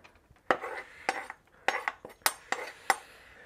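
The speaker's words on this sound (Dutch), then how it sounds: "Gaan we vast eventjes ons vlees trancheren." A knife slices grilled bavette steak on a board after barbecuing, giving about seven sharp, separate clicks and knocks at uneven intervals, close and fairly quiet, with no talking.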